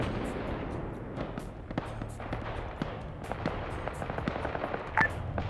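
Cluster munition explosions in a military video game, heard as a scattered rapid crackle of small pops and bursts, moderately distant, over a low rumbling background.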